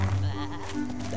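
A cartoon sheep in the Super Wings animated series gives a short, wavering bleat, heard close and clear for about a second.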